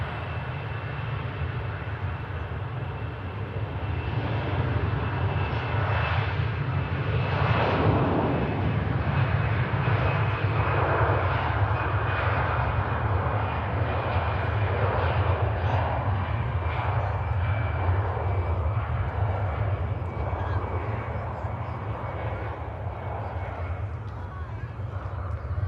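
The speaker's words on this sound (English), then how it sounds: "EasyJet making all the right noises for us there" An EasyJet airliner's jet engines spool up at an airport, a loud, sustained roar and rumble with a rising high whine, continuous throughout as if heard from a nearby spotting position.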